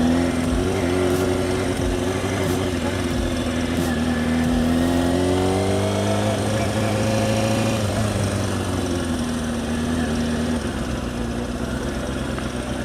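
A motorcycle engine runs loud and close while the rider shifts gears, its pitch rising and dropping as revs change, with a steady mechanical drone and no talk.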